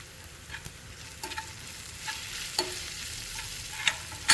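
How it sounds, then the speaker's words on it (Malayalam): Onions sauté in a pan for a small bitter gourd stir-fry, a soft low sizzle broken by several sharp scrapes and taps of a spatula against the pan at irregular intervals, close and fairly quiet, no talking. "ഉള്ളി ഒരുമാതിരി നന്നായിട്ട് വഴന്നിട്ടുണ്ട്."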